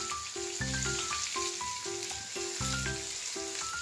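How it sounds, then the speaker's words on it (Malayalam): Crushed ginger, garlic, shallots, green chili and curry leaves sauté in hot oil for a fish curry, a soft continuous sizzle running beneath prominent rhythmic background music. "എന്നിട്ട് ഇളക്കണം. ഇതൊരു ഗോൾഡൻ കളറാവുന്നിടം വരെ ഇത് ഇങ്ങനെ ഇളക്കിക്കൊണ്ടിരിക്കും."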